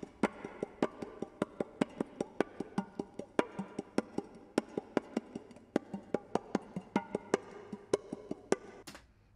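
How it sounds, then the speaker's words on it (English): Fingers tap steadily on a metal can, giving a quick run of bright, close ticks in an irregular but busy rhythm that continues for several seconds. "I have a metal can that I did some finger tapping on."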